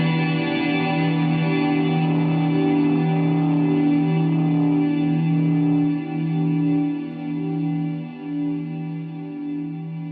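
Guitar chord played through a Cloud reverb set to a very high mix, forming a lush ambient wash of sustained, shimmering harmonics that swell and slowly fade over ten seconds, alone without talk.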